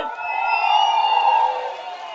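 A crowd at a political rally in Kamalapuram roars and cheers in one sustained, loud swell of voices with ringing shouted tones, holding for a couple of seconds before easing slightly.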